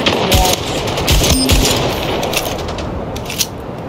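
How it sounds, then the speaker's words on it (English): Rapid gunfire rings out in the Splitgate video game, a loud burst of automatic shots at the start followed by a sustained roar of game noise and a few further scattered shots. "I can shoot the wall."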